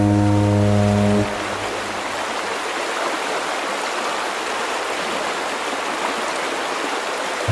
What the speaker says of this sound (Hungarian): Érkezik is egy hajó.